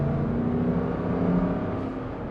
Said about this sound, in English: And look at this acceleration.